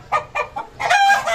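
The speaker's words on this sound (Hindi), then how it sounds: "ये इससे मुर्गे शोर मचा रहे हैं।" Roosters and chickens on a Hindi-language vlog cluck in three quick separate bursts, then a rooster breaks into a loud, sustained crow, all close and clear with no talking.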